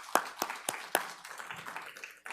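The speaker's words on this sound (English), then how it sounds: "that deserves a round of applause" A few scattered claps from an audience, sharp and spaced at first, then thinning into a faint, sparse patter.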